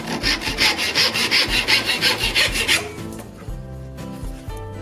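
Rhythmic back-and-forth hand sawing through oak cradle parts, a dozen quick strokes close up, then the cut stops and only faint knocks and shop noise remain.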